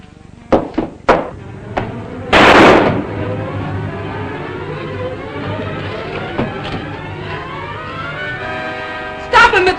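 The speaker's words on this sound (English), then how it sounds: "What's all the shooting about, Baron?" Gunfire in an old serial film: several sharp shots crack near the start, then a loud burst with a lingering hum and faint voices underneath, and another shot at the end.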